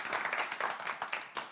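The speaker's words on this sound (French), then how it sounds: "applaudissements." Brief, soft applause from a small audience at a game-show championship, a few quick irregular claps lasting under two seconds, fairly faint and without any talking.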